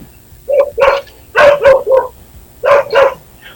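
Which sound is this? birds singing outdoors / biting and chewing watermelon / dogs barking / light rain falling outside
dogs barking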